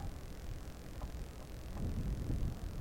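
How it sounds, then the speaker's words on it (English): Low, rumbling wind buffets the microphone outdoors at a Winter Field Day 2021 radio event, swelling louder toward the end, with no voices present. "It's a little windy out here too."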